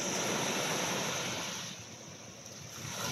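Sea waves washing onto a beach, a steady broadband surf rush mixed with wind noise that eases briefly midway and then swells again.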